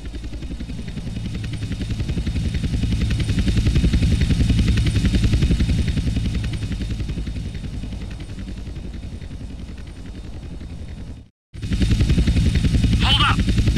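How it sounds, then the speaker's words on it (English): Helicopter engine and rotor drone in GTA San Andreas, a loud continuous low thrum with steady chopping texture that cuts out briefly near the end before resuming, with game dialogue over it. "Two agency choppers coming in on an intercept."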